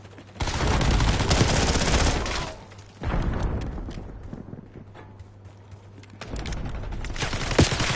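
An airstrike and gunfire in a shooter video game, with loud dense bursts of shots and explosions that come in three waves broken by quieter gaps.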